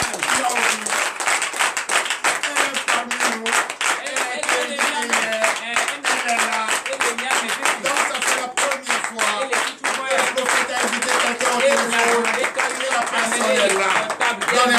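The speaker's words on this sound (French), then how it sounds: "vous lever et applaudir la sœur Viviane" Church congregation at a night deliverance and prophecy service standing and applauding Sister Viviane, dense sustained clapping throughout with a voice speaking over it.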